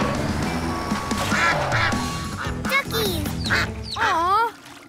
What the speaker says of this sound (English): those little ducks really like their new home